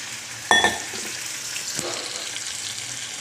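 Chicken pieces dropped into a pan of cooked garlic and onion hit with a sharp burst of sizzle, then a steady frying hiss with a brief stir partway through, close and with no talking.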